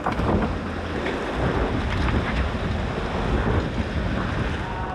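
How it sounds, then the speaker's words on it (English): Squall wind hitting a sailboat at sea in heavy rain, a loud, steady roaring gust with rushing water and buffeting noise throughout, no talking. "Squall's coming through."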